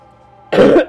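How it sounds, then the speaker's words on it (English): A loud, close cough blasted into a microphone, two sharp bursts after a half-second of quiet hum, the second cut short at the end. "Don't cough into the microphone."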